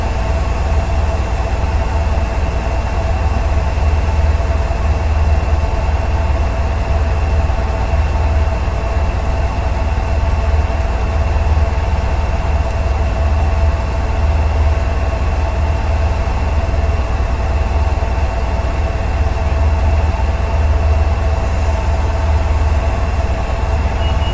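A GP40-2 diesel locomotive in Train Simulator 2018 slowing to a stop under brake-pipe reduction, heard as a steady, loud low engine rumble with constant wheel and brake hiss, without any speech.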